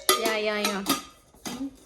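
A metal cooking pot is handled, giving a few bright ringing clanks and clinks close by, each fading quickly.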